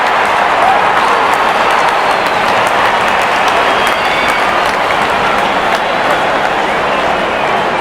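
A cricket crowd applauding a boundary at a Zimbabwe versus Sri Lanka T20 match, loud sustained clapping and cheering that washes evenly across the whole stretch.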